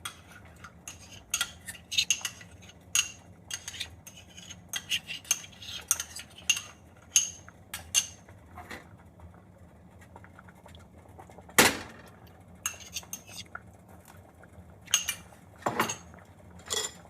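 A spoon stirs pumpkin erissery with ground coconut paste in a pot, making irregular metallic clinks and scrapes against the sides, close and crisp, with a faint low hum underneath and no voices.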